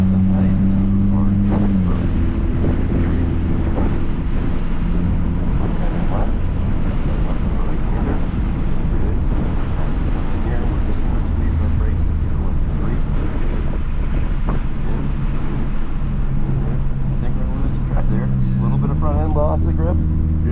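A Subaru WRX accelerates on the Harris Hill race track, its engine droning loud and continuous under heavy wind buffeting from inside the car, with the pitch climbing toward the end.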